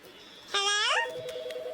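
Electronic phone tones from the video game Autopsy Simulator, a bright burst of falling, sweeping notes that settles into a steady ringing tone, fairly clear over a quiet background with faint voice murmur.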